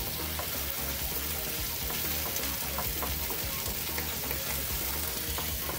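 Pork fries in hot oil in an outdoor kitchen, giving a dense, continuous close-up sizzle that holds evenly throughout.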